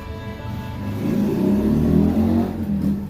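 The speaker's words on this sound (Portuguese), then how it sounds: "Dá grau esse rapaz aí que passa na moto aí" A motorcycle revs loudly as it passes in front of a house, its engine note rising and swelling mid-pass before easing away.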